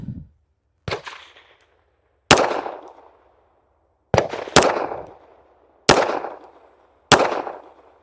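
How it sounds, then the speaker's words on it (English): A Beretta pistol fires 95-grain Winchester .380 ACP rounds outdoors: seven sharp, loud reports at irregular intervals, some in quick pairs, each followed by a short ringing decay and silence between. "we got the Beretta. Let's shoot it."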